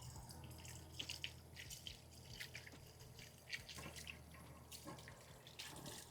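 Tap water runs into a kitchen sink during rinsing while cooking roasted garlic and squash pasta sauce, a steady faint splashing stream with brief clinks and drips, no talk.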